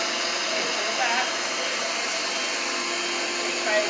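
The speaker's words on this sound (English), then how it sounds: "I ask her to push the vacuum forward and pick up the stuff" A vacuum cleaner runs with a steady broadband whine and roar throughout, close and constant, with faint voices in the background.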